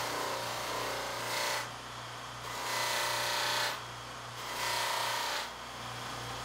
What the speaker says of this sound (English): And you just proceed to grind the whole piece with this 100 grit and get all the major stuff off.